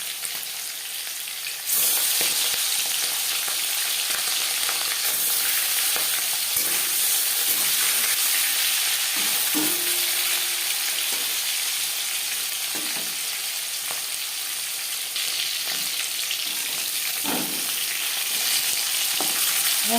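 Marinated katla fish fries in hot refined oil with a loud, steady sizzle and hiss, broken by occasional clinks and stirring sounds, and no voices.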